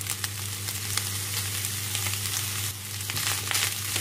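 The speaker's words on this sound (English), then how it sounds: "I'm going to add some soy sauce." Soy sauce hits sizzling egg fried rice in a pan, giving a loud, close, continuous sizzle with scraping stir noises and small bursts of crackle.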